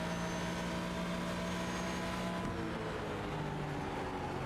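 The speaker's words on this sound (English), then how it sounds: "Yeah, just this car sounds beautiful." GT race car engine in the iRacing sim at Silverstone, a steady loud droning roar with harmonic tones that shift pitch partway through as the engine changes speed, continuous with no talking.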